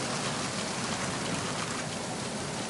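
Steady, dense rain whipped by wind in Metal Gear Solid 2, a constant close hiss that fills the scene without any break.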